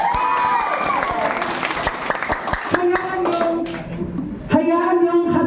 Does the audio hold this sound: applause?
yes